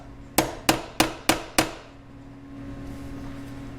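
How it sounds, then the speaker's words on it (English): Five sharp, evenly spaced hammer blows strike an easy out driven into a stripped bolt, each a bright metallic crack, followed by quiet room tone. "So I'm going to put this easy out in here and give it a couple good whacks, and hopefully this will start to back out."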